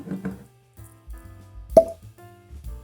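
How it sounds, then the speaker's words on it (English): A cork pops out of a Booker's bourbon bottle with one sharp, close pop after some quiet handling rustle. "Gotta love that cork pop."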